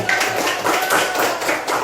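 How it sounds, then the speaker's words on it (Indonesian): A classroom of students applauds after a group is given its grade, a short burst of many hands clapping in quick, uneven rhythm, fairly close and loud. "Oke, tepuk tangan."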